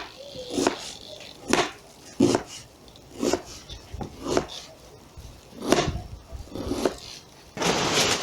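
A knife slices an onion into half rings on a cutting board, producing a steady series of sharp, close chopping thuds roughly every second, with faint rustling between strokes.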